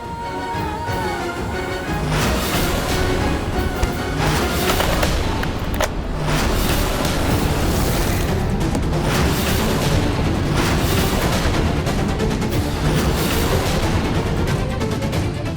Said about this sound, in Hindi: ये अचानक गोलियों की आवाज कैसे आ गई?